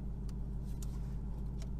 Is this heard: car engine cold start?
yes